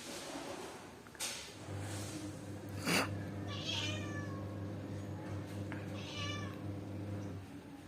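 A cat meows a couple of times, faint and fairly distant, over a low steady hum with quiet indoor background noise.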